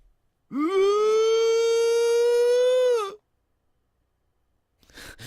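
A single sustained wail rises quickly and holds steady for about two and a half seconds before cutting off, a siren effect from the Steins;Gate visual novel, followed by a short burst of noise.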